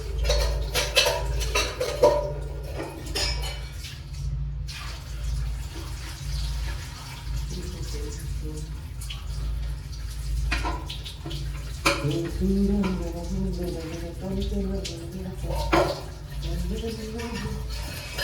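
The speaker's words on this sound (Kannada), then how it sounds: "ಪಾತ್ರೆ ಯಾವ ಚೆನ್ನಾಗಿ ತೊಳಿತೀನಿ ಗೈಸ್, ಕಾಮೆಂಟ್ ಮಾಡಿ." Dishes get washed at a sink under running water, with a steady flow of tap water, clattering pots and clinking utensils close by, and a voice talking intermittently over it.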